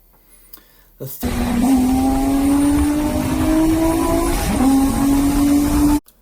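A Nissan 350Z sports car with a V6 engine holds a steady, loud drone for about five seconds, the pitch climbing gradually with a brief dip near the end before it cuts off abruptly.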